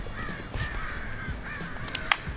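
Crows caw repeatedly in harsh, drawn-out calls across the background during a giant NBA Monopoly basketball board game, fairly distant and moderately loud, with a sharper burst near the end.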